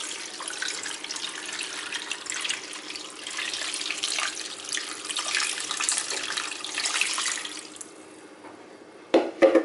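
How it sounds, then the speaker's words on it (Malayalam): Water pours steadily from a tap into a cooking pot of cleaned crabs, a continuous splashing rush that stops near the end and gives way to a few clinks. "ഇനി നമുക്ക് ഈ പാത്രത്തിലേക്ക് നിറയെ വെള്ളം ഒഴിച്ചു കൊടുക്കാം."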